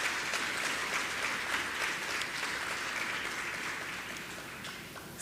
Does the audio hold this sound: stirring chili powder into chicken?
no